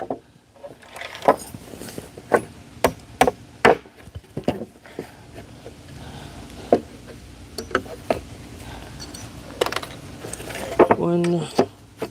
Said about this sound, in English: Hammering might be a little bit loud.